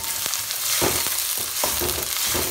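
Hing (asafoetida) dropped into hot oil for a rajma and black urad dal gravy, giving a bright, continuous close sizzle with a few stirring knocks.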